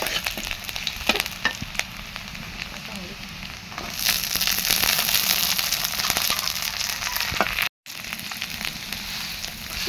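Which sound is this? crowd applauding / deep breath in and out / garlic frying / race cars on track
garlic frying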